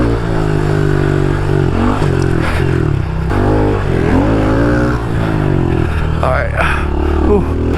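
Pit bike engines racing around a backyard dirt track, comparing a big bore against a stock bike, the buzzing motor loud and close, rising and falling in pitch through revs and gear changes, with voices talking over it.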